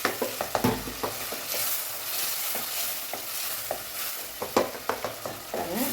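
Tomatoes sautéing in hot oil in a pan for brinjal and drumstick sambar, a steady close sizzle broken by sharp clicks and scrapes of stirring.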